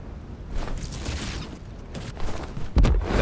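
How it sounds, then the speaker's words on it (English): Gunfire in a video game: scattered shots and rattling bursts crackle at mid distance, building to a heavier, louder thump and burst near the end. "I hear some gunfire at the back end here"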